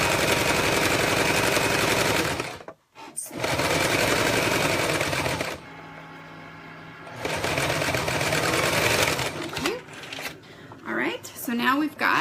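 A sewing machine stitches pieces of a zipper project in long, loud, fast whirring bursts with brief pauses between runs, and someone speaks near the end.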